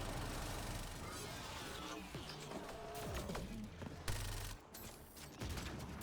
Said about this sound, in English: That was a well-timed rocket